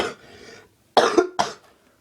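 A person coughs nearby: one soft breathy cough followed by two sharp, loud coughs in quick succession.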